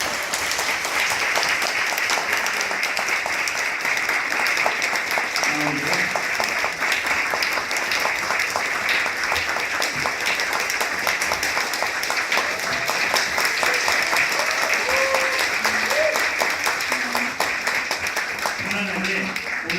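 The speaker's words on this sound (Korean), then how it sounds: "우리 큰 박수 부탁드리겠습니다" An audience at a book talk applauds warmly, with dense, sustained clapping filling the room for the whole stretch.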